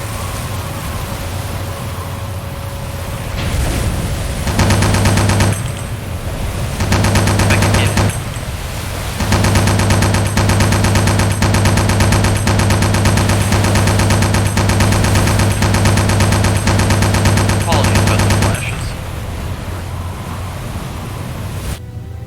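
Rapid bursts from a .50 caliber deck gun aboard the submarine USS Nautilus raking sampans in Silent Hunter 4, loud sustained automatic fire in several long strings with short pauses, over constant engine and sea noise.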